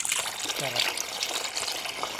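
Cold spring water trickling and gushing steadily at a hidden waterfall in Laguna, a close, continuous bright wash of flowing water with a voice briefly heard over it.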